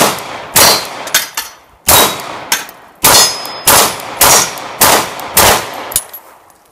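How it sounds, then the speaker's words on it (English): A High Point C9 pistol lubricated with FrogLube Extreme fires in freezing, frosty conditions, about nine sharp, loud shots in an uneven series, each followed by a ringing metallic clang from a steel target. "See how she does. First shots."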